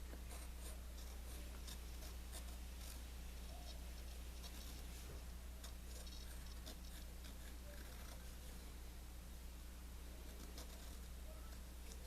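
Soft, steady scratching of a pencil drawing on paper, faint and continuous with brief quicker strokes, set against a low constant hum.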